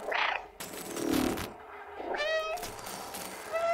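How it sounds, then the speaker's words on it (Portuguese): Cat meows in the Stray video game, several distinct meow calls in quick succession, clear and close with no talking over them. "Aperte B para miar."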